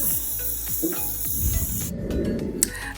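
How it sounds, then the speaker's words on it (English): Short hisses of an aerosol baking spray can sprayed into cake pans, with a longer burst near the end, over a faint high whine and light handling noises. "how you shake it when you're spraying to make it come out"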